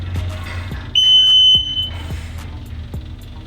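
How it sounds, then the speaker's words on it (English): A single sharp electronic beep from the remote control of a robotic brushcutter, lasting about half a second, sounding over a low mechanical rumble and scattered clicks. "press and hold the button until you hear a beep"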